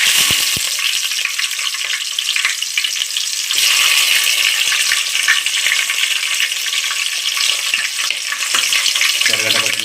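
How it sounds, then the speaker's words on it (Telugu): Tempering seeds, onion and green chillies sizzle and crackle steadily in hot oil for aloo biryani, with occasional stirring clinks in the pan. "ఆయిల్ వేడెక్కింది ఇప్పుడు అందులో ఒక స్పూన్ తిరగమాత గింజలు ఎర్రగడ్డ పచ్చిమిర్చి చేసుకుందాం"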